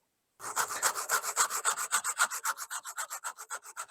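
Rapid, rhythmic metal-on-metal rasping as a hand file strokes back and forth across a chainsaw chain, sharpening it, about a dozen crisp strokes, close and clear, gradually softening.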